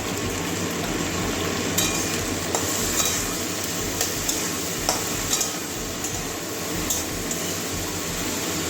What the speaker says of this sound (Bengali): ভেন্ডির কাঁচা গন্ধটা যাওয়া পর্যন্ত ভেজে নেব